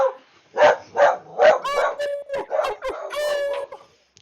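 A dog barks in a quick series of sharp, loud, close barks, then keeps yapping while people talk over it.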